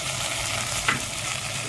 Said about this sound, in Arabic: الباميه يا حبيبي تتشوح شويه يا حبايبي